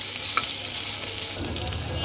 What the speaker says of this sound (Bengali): দু এক মিনিট আদাটাকে একটু সুন্দর করে ভেজে নেই